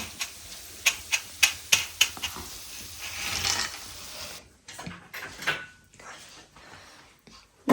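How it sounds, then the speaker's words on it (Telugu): Spices tempering in very hot oil crackle with a run of sharp, fairly regular pops, then a softer hiss with scattered smaller pops, close and loud. "ఇవన్నీ కొంచెం వెంటనే వేగుతాయి ఆయిల్ వేడైంది కాబట్టి"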